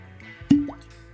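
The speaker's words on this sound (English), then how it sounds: "Pour a little bit." Peat charred cask single malt whiskey pours with a single soft plop and brief liquid drip, close and quiet, alone without voices.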